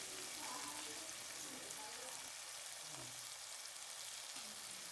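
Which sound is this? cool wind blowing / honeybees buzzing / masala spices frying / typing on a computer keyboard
masala spices frying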